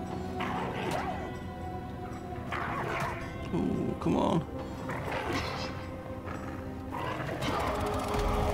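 A dog in Divinity: Original Sin barks and whimpers in short bursts amid busy game effects and background music, with yips scattered across the scene.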